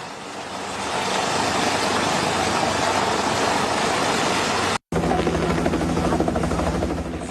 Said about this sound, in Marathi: हवाई दलाच्या हेलिकॉप्टरनं काही स्थानिकांना रेस्क्यू केले